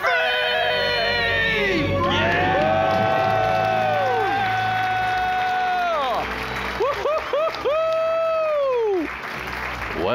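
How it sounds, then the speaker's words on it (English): A family on a radio finance show lets out a loud, sustained debt-free scream of whoops, shrieks and cheers, with clapping from a studio crowd that fades toward the end. "Let's hear a debt-free scream."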